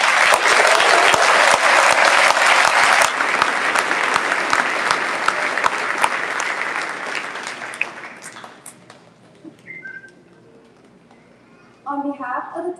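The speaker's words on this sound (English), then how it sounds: "Let's give a warm round of applause for your graduating students." Graduation ceremony audience applauding graduating students, a loud, sustained roar of clapping that gradually fades out over about eight seconds, followed by quieter sounds and a voice starting to speak near the end.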